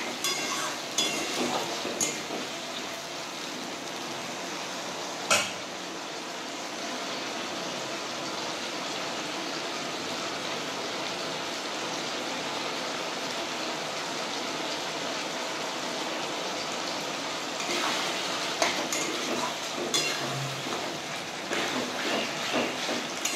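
Diced capsicum and onion frying lightly in oil give a steady, even hiss of sizzling that carries on for the whole stretch, with a few faint clinks and knocks scattered through.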